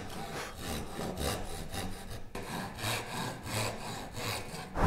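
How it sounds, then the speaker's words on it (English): A handsaw works back and forth through wood while trimming a tenon for a through mortise and tenon joint, steady rhythmic rasping strokes close by with a brief pause midway, no voices. "So now what I'm gonna do is chop these little bits off and we can trim the tenon to its final width."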